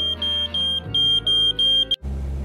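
A smoke detector beeps in a rapid series of short, loud, high chirps, about eight in a row, cut off by a sudden break into a low hum near the end, close and with no voices.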